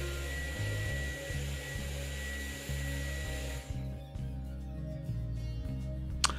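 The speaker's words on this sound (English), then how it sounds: "starting with a vacuum to get rid of all of the dust bunnies that have been building up over the years" A steady vacuum cleaner motor whine with shifting pitch, running close by and moving over furniture surfaces to remove dust, ending with a short bump.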